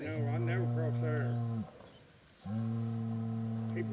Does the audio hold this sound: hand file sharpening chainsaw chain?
no